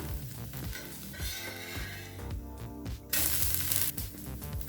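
A tomato rava dosa sizzles on a pan over a medium flame, a soft crackle under background music, with a sudden louder burst of hissing partway through and no one talking.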